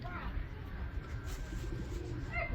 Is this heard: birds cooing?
yes